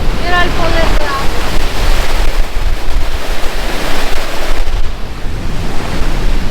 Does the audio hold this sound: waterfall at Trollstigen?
yes